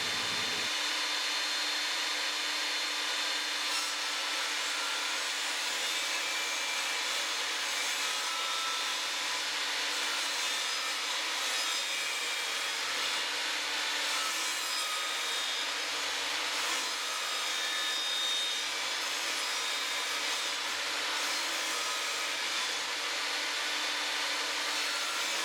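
An Evolution Fury 5-S table saw rips timber, a steady high whining cut held loud and continuous for the full stretch with no talk over it.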